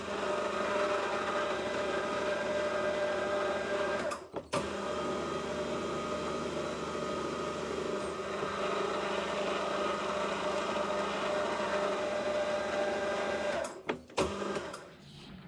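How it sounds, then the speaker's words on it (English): A face mill arbor (MT3) is power tapped, producing a steady, fairly loud motorized whine that runs continuously with two brief interruptions, near and without speech. "try and power tap it."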